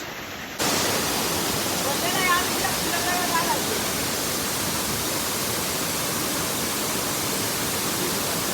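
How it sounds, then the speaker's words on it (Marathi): A waterfall roars in a constant dense rush, starting abruptly after a moment and holding steady and loud throughout. "आता आलोय धबधब्यावर. तर हा धबधबा आहे"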